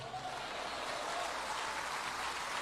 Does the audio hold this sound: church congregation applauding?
yes